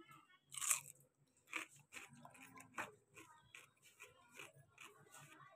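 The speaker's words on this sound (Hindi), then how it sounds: "अभी मैं खा रहा हूँ खीरा, एक खीरा खाऊंगा उसके बाद खाऊंगा।" Crisp crunching and biting of a raw cucumber, close to the mic, in a series of sharp bites followed by wet chewing, with occasional faint background noise and no speech.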